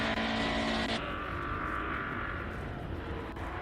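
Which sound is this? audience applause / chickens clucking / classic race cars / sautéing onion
classic race cars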